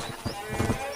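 Horse hooves clip-clop on the ground in the Western video game Red Dead Redemption, a few soft, evenly spaced steps close by, with faint background noise and a hint of speech.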